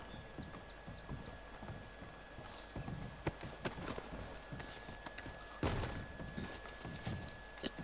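Horse hooves clip-clopping in Red Dead Redemption 2, a steady walking rhythm of sharp hoof strikes over faint ambient background.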